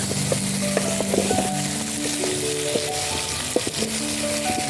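Onions and garlic fry in a pan while cooking potatoes, making a continuous dense sizzle with frequent small pops and crackles, close and fairly loud.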